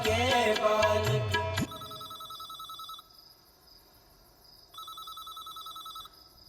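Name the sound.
telephone ringing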